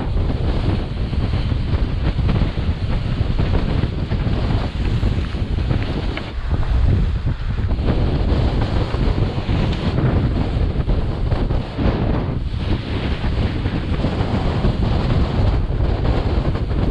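A trimaran under sail on open water in Buzzards Bay, with steady, heavy wind buffeting the microphone and a constant rush of water and waves along the hull, no voices over it.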